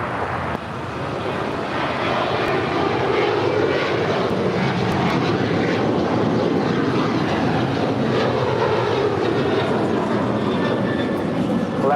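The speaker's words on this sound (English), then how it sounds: "That was Alaska 290 departing to Guadalajara on a 737-900 ER." A Boeing 737-900ER jet takes off at LAX, its engines roaring loud and steady across the whole stretch with broadband rumble and a whine on top, and no talk over it.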